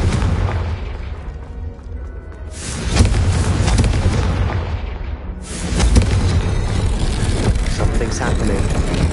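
A Confringo spell explosion in Hogwarts Legacy, two loud booming blasts with long rumbling tails, one early and one midway, filling the scene with dense noise.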